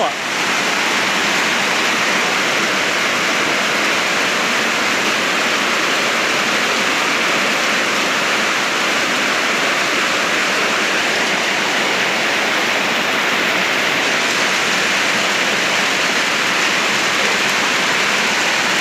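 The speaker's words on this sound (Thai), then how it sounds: "ฝนตกแรงเลยเห็นไหม" Steady heavy rain roars without a break, a dense wash of falling water close by, loud and unchanging throughout.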